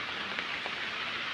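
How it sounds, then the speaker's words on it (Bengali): Heavy rain pours down in a village, a dense, steady hiss with no voices over it. "বৃষ্টি জোরে নামতেছে"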